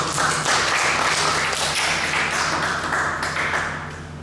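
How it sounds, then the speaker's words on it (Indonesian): A church congregation applauds during a sermon, a dense steady patter of many hands clapping for several seconds before tapering slightly. "Tepuk tangan dulu dong buat Tuhan Yesus."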